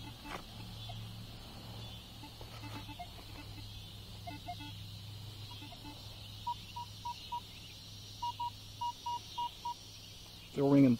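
An Equinox 800 metal detector sounds a series of short, evenly spaced beeps while sweeping over a target in a park, clear over outdoor background hum and passing traffic.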